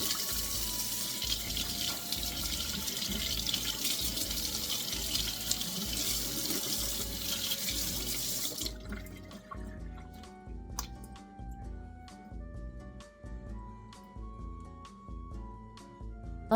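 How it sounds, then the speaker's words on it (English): A tap runs into a sink for about half the time with a steady, close splashing rush while hands are washed, then shuts off, leaving scattered single drips and small trickles. "wet your hands with clean running water, warm or cold, and turn off the tap and apply soap."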